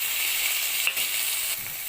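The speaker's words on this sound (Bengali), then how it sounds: "এবার দিয়ে দেবো কেটে রাখা টমেটো।" Chopped tomato drops into a pan of frying onion, garlic and eggplant, giving a steady, close sizzle with a brief stir or clatter partway through.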